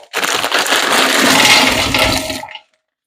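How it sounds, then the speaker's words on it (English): Two 12-ounce bags of frozen green beans pour into a cooking pot in a loud, continuous rattling rush that lasts about two and a half seconds and then stops abruptly. "we're going to do two 12-ounce bags of frozen green beans."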